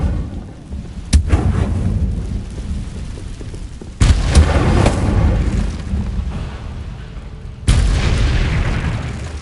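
Incendio fire spell bursts in Hogwarts Legacy, three heavy booming whooshes with rumbling, crackling tails, loud and close, no voices.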